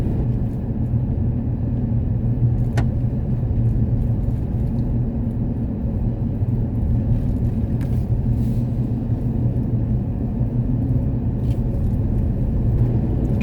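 A vehicle driving across the plains on the Trans-America Trail gives a constant low engine and road rumble with a steady drone, a few faint ticks, and no talking.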